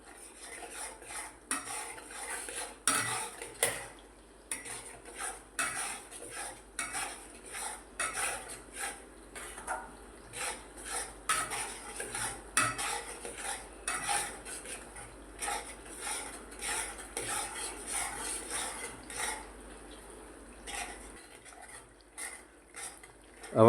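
A spoon stirs chole masala with Kitchen King masala in a metal pan, scraping and clinking in steady repeated strokes close up, fairly quiet with faint sizzling underneath.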